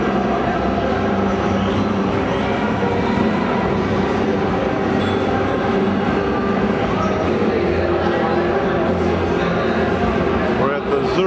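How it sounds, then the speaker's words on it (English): Steady rumbling noise at Zurich train station, a continuous low roar with faint murmuring voices in the background. "We're at the Zurich train station."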